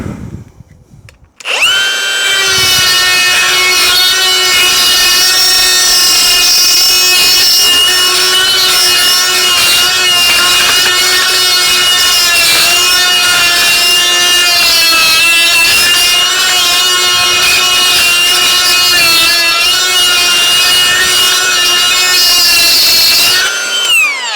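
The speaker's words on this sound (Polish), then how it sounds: "tu wkładka raczej nie puści, dopóki nie wyfrezujemy jej tą stronę" A loud, continuous high-pitched whine of a milling tool cutting into a metal EPS Symo lock cylinder, steady and close for over twenty seconds, with no talking.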